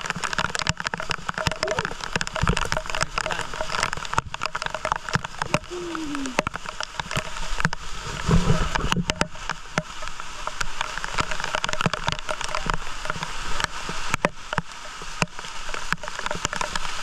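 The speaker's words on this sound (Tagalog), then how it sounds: "Dito tayo sa ulan." Rain pours down on Malapascua island in a steady, dense patter of drops hitting surfaces nearby, continuous and moderately loud with faint watery gurgles and only slight background noise.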